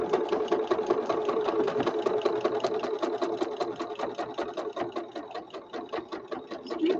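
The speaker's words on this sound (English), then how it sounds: "To sew in the elastic." A sewing machine stitches elastic onto a vintage journal cover, running steadily at close range with a fast, even needle rhythm and slight speed changes throughout, with no talking.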